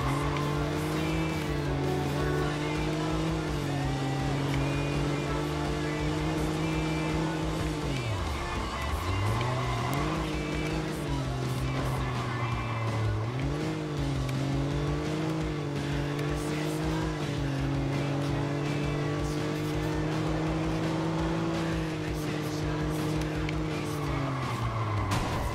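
Car driving in the Watch Dogs video game, with a steady engine drone that rises and falls and tires squealing in skids, continuous and loud throughout, with a voice talking faintly in places.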